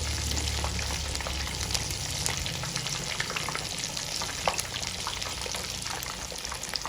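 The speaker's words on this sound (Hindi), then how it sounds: "ताकि हमारा जो चिकन है अच्छा सा फ्राई हो जाए" Chicken chargha fries in a pan over a lowered flame, giving a loud, dense sizzle with a steady hiss and occasional sputtering pops throughout.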